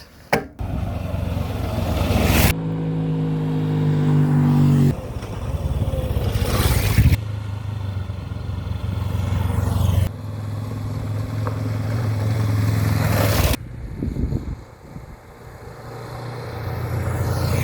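A motorcycle rides along a road in Tasmania, its engine droning steadily and rising through the gears with shifts, wind rush loud over the engine note.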